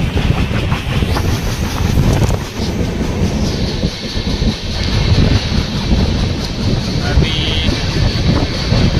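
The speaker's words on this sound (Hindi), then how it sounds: "साइड में अभी दूसरी ट्रेन क्रॉस हो रही है।" A train hauled by three locomotives passes close by on a track near the Kasara ghat railway tunnel, a loud, steady rumble and clatter with wind buffeting throughout and a voice speaking at times.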